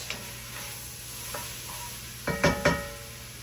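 Onions and peppers cooking in a pan for Catalina steak, a soft steady sizzle with a few louder stirring scrapes near the end, close and fairly quiet, no talk.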